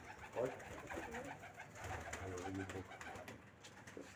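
A pigeon cooing nearby in a series of soft, low, throaty coos, moderately close, with faint voices in the background.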